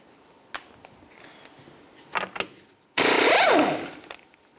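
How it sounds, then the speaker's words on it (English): A power tool removing a 30mm axle nut on a 2005-2010 Chevy Cobalt during a front strut job fires one loud sustained burst of rapid hammering after a few scattered clanks and knocks. "Now let's continue on to removing our 30mm axle nut."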